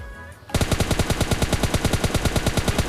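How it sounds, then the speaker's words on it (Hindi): Rapid automatic gunfire in the mobile battle royale game PUBG Mobile Lite, a steady burst of evenly spaced loud shots starting abruptly after a short quiet moment and continuing without pause. "यहाँ पर मैं कुछ शॉट्स ट्राई करता हूँ, लेकिन गाइस यार कनेक्ट नहीं हो पाता है"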